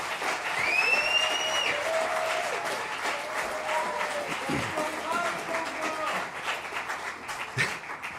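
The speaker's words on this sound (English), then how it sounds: "another round of applause for them, please" Audience applause for a student music group at a university fall music festival, a dense, sustained clatter of many hands that fades gradually, with a whistle near the start and voices mixed in.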